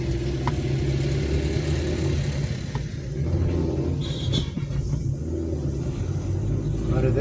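A military lorry grinds past on a forested hill road near a hairpin bend, its low engine rumble loud and steady throughout with brief higher whines, no talk over it.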